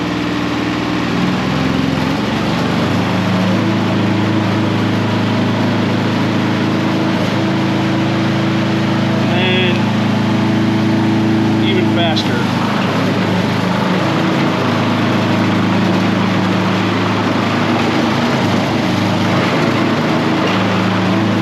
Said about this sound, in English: now we're going to take the engine up to high idle.